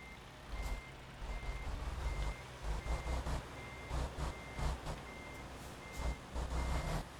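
Truck reversing beeps in American Truck Simulator, a steady repeating alarm pulsing every second or so over a low idling diesel rumble, with no talk.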